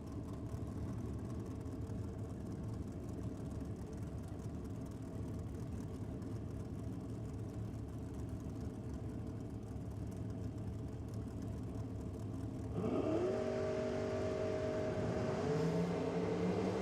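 A drag racing car with a 600-plus cubic inch Chevrolet engine idles and rumbles steadily at a race meeting, then revs up sharply near the end with rising engine pitch, loud and continuous with no talk.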